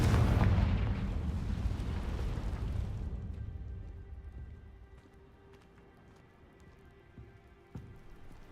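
A fiery blast spell in Hogwarts Legacy booms out loud at the start, then rumbles and fades into quieter background game sounds, with a faint later thump.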